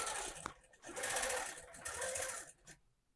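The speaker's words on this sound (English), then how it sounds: "I'm going to do the vertical line down. I'm basting the entire thing onto my soft and stable." A longarm quilting machine bastes a vertical line through bag fabric onto foam stabilizer, its close, steady mechanical run lasting a few seconds before trailing off.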